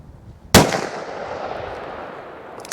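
A single sharp .454 Casull gunshot fired over a chronograph cracks out loud and close, followed by a long fading echo tail in an otherwise quiet outdoor setting.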